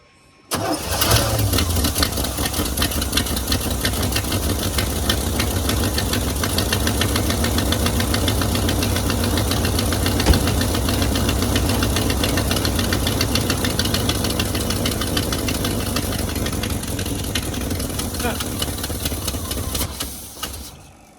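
A 1984 Chevrolet Suburban engine starts with fresh spark plugs and settles into a loud, steady, close-up run that lasts about twenty seconds without a break, with a rough knocking texture throughout.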